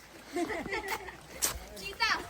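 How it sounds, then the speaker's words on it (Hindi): Waterfall water splashes and rushes as a steady, fairly quiet wash in the background near Sattal, Nainital, with short bursts of splatter breaking through while people talk over it. "वाटरफॉल का पानी है।"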